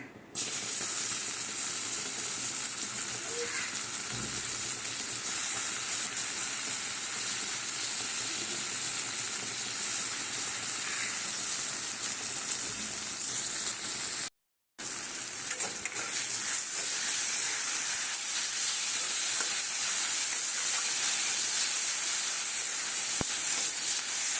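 Mung dal frying in ghee in a wok gives a steady, continuous sizzle with a soft hiss throughout. It stops briefly about halfway through, then carries on at the same level, with no voices.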